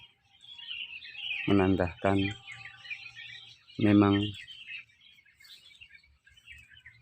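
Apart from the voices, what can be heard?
birds chirping in a public cemetery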